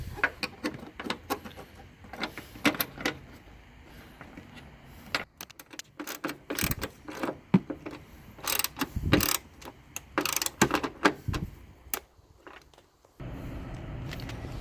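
A bolt is ratcheted down at the fender of a Mustang GT500 while a carbon fiber heat extractor hood is fitted, giving close, clicking ratchet bursts with pauses between strokes.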